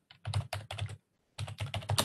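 Quick bursts of typing on a computer keyboard, close and crisp, with clusters of keystrokes split by a short pause before another flurry of taps.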